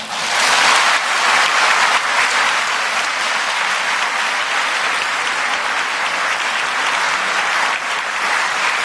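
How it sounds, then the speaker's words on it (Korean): A church congregation breaks into loud, sustained applause at the close of a testimony at a dawn prayer service, a dense crowd clapping that swells at the start and holds steady before easing slightly near the end. "다시 한번 우리 큰 박수로"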